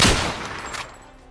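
A loud, close burst of gunfire from the video game DUCK! The Carbine High Massacre hits sharply at the start, followed by a brief crackling tail that fades over about a second.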